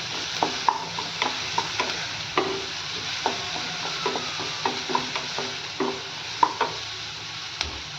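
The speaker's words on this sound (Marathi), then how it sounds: "कांदा छान गोल्डन ब्राऊन होईपर्यंत भाजून घेऊयात." Finely chopped onion fries in a pan with cumin, a steady low sizzle under regular, close spatula scrapes and taps roughly every half second throughout.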